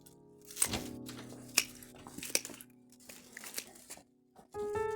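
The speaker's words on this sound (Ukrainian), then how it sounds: "Я прям беру отак от рукою і обрізаю ці гілочки." Lavender twigs snipped off a bush by hand, giving a few sharp, close crackles and crisp snaps spaced across a quiet moment, with a brief rustle near the end.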